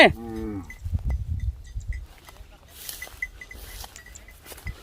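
A herd of cattle in a field, one cow giving a single close moo at the start, followed by rustling, faint clinks and low background noise.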